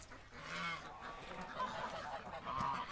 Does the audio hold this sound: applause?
no